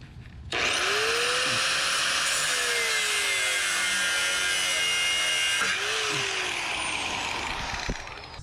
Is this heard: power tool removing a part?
yes